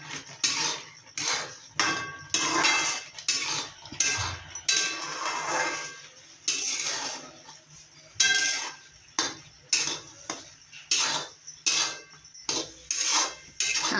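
Rava upma stirred in a metal pan, a spoon scraping and clanking against the pan in repeated rhythmic strokes, close and fairly loud, with no speech.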